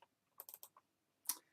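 Quick typing on a computer keyboard: a cluster of sharp close key clicks, a pause, then a few more taps, crisp against near silence with no voices.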